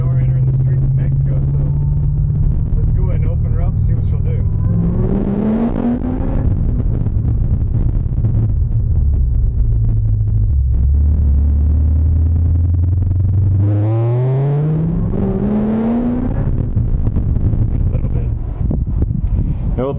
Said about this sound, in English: Maybe hear some of that supercharger whine and that exhaust.